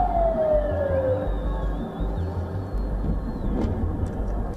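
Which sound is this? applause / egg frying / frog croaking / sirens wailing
sirens wailing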